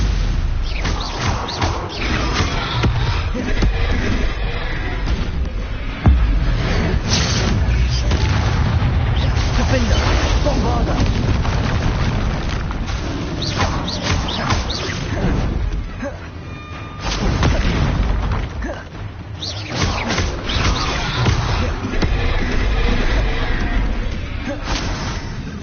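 Rapid bursts of Bombarda explosion spells booming through Hogwarts Legacy combat, dense and continuous, layered with other spell effects and shouted incantations across the whole stretch.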